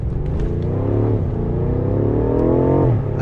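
A BMW F90 M5 Competition with EVOLVE Stage 1 tuning, set to M mode, revs hard and steadily for about three seconds, its engine note rising and falling under continuous loud drive, with no talking.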